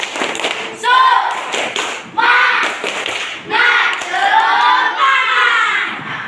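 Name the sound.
class doing the 'tepuk semangat' rhythmic clapping chant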